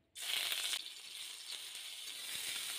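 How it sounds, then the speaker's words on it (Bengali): Grated ginger hits hot oil and bursts into a loud, bright sizzle, then settles into a steady crackling fry that carries on alone. "আদাটা 2 মিনিট ভেজে নিয়েছি"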